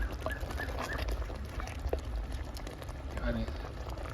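Squid gravy bubbles away in a clay pot, making a steady soft simmering hiss and faint popping throughout, fairly quiet, with a voice talking over it.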